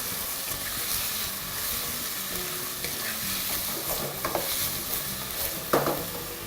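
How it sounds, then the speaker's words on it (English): Beef browns in a pan for spicy beef biryani with a continuous, close sizzle and frequent scraping stirs, a louder clatter near the end. "as our meat continues browning"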